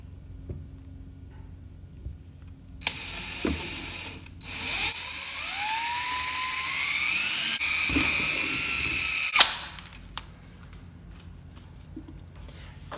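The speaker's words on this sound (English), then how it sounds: "got the holes for the mounting studs marked, and let's drill them out here" A power drill whines at close range for several seconds, drilling mounting-stud holes, its pitch rising as it bites into material, then cuts off, with a few handling clunks before and after.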